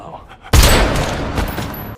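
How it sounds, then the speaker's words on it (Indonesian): Sustained burst of rapid gunfire from a movie action scene where one man aims a pistol at another, erupting loudly after a quiet moment and rattling on for over a second before cutting off. "si Jan langsung menodongkan pistol ke arah Bullet"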